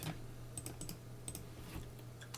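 Someone types on a computer keyboard while entering a Linux terminal command, with soft, fairly quiet clicks in an irregular rhythm over a steady low hum.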